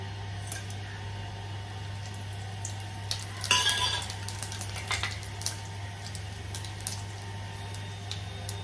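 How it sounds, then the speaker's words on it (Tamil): Onions and curry leaves sautéing in oil in a pan for vada curry, a soft steady frying hiss broken by a brief cluster of stirring clatter and scrapes partway through, fairly quiet over a low background hum. "வெங்காயம் கருவேப்பிலை வெங்காயம் வதங்கட்டும்"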